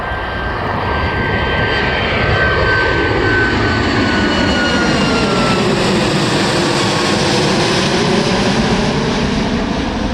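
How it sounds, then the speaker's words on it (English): A Boeing 737 MAX 8 takes off at Miami International Airport, its jet engines roaring loud and steady throughout with a slowly shifting whine as the aircraft passes close by. "So it's a 737 MAX, and it is on its way to Guayaquil, Ecuador."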